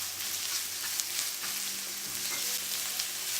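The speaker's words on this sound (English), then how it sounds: "add spring onions, chopped onions. Just give it a nice mix to them." Spring onions and chopped onions fry in hot oil in a wok for veg fried rice. A steady, fairly quiet sizzle hisses throughout, with a few soft stirring taps.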